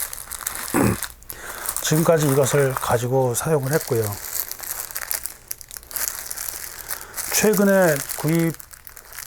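A plastic bag that held a face mask crinkles and rustles while handled, crackling steadily and close under someone speaking Korean.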